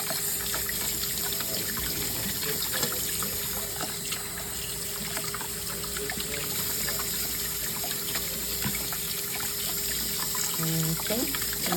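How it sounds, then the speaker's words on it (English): Cold tap water runs steadily into a kitchen sink as fresh berries are rinsed, a continuous close hiss and splash with faint voices under it. "so you just rinse them with some cold water for a little bit"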